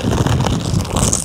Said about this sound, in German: Boah, ist das windig.